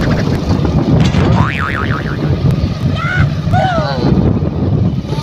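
A motorcycle is ridden along a rural road past sugarcane and maize fields. Steady wind buffets the microphone over a low engine rumble, a few brief whistling tones sweep through, and a voice says one short word.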